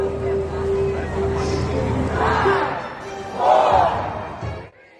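A crowd at the Walk to End Alzheimer's in Queens, New York cheers as the ribbon is cut and the walk begins, mixed voices swelling into shouts under nearby talk before cutting off abruptly.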